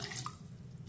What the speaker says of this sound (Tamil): கொஞ்சமாக தண்ணி ஊற்றிக்கிடுவோம்,